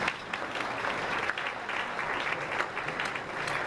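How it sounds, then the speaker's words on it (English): An audience at a community celebration and freedom fund event breaks into steady, sustained applause, a dense wash of clapping that holds at an even level throughout with no voices standing out. "Please applaud yourself."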